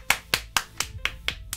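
Six sharp hand claps ring out close by in an even, steady rhythm, each crisp and dry with no talk over them.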